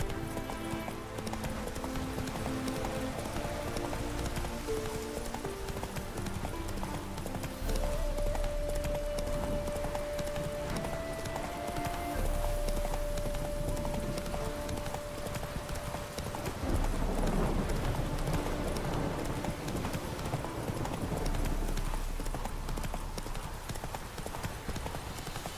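Horse galloping in a video game, fast rhythmic hoofbeats pounding steadily and close throughout, with a sustained musical tone and game sounds layered over it and a faint whinny.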